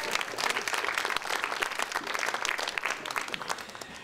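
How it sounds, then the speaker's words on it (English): Conference audience applauding after a speech at an economics forum, a sustained crowd of overlapping claps at moderate distance, steady throughout with no talking. "Second round of applause for you."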